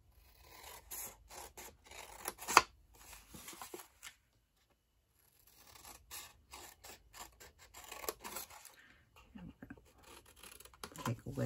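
Scissors snipping paper tabs on a handmade gift box, close and fairly quiet, with repeated short cuts in bursts, a brief pause, then more snipping.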